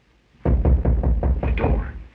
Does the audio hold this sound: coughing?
no